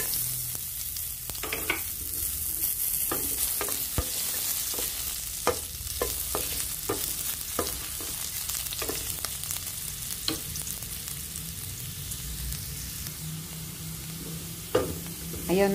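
Sliced ginger frying in hot oil in a home casserole pan, a steady close sizzle and crackle broken by scattered sharp pops and occasional stirring clinks.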